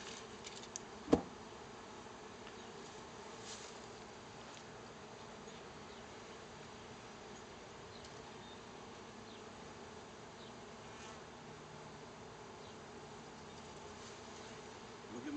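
Faint, steady buzzing of honey bees on a hive being cleared with a fume board fills the quiet background, with one sharp knock near the start.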